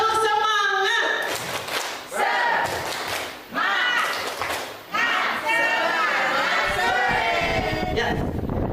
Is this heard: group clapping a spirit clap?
yes